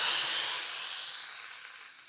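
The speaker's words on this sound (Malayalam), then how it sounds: "താളിച്ചത് നമുക്കിതിലേക്ക് ഒഴിച്ചു കൊടുക്കാം." Hot tempering poured into onion sambar sets off a loud, bright sizzle that starts at full strength and slowly eases off over about two seconds, with no voices.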